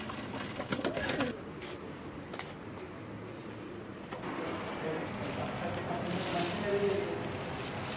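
Domestic pigeons cooing softly in a coop, low murmuring calls repeating through steady background noise with faint movement sounds.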